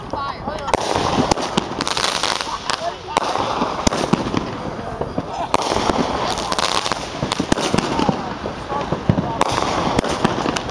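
Fireworks bursting at a fireworks competition, a rapid, continuous barrage of crackling pops and booms with some louder reports, while people talk and react nearby.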